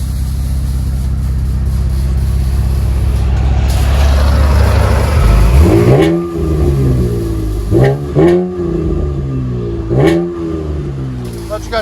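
A 2012 Chevy Camaro V6 with an aftermarket exhaust idles loudly up close, swells into a long rising rev, then blips through three sharp revs in quick succession.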